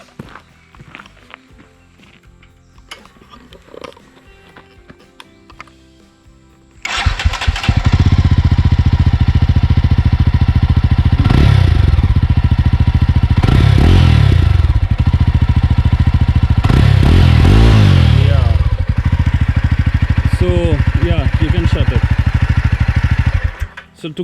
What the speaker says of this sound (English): Why don't you just start the bike?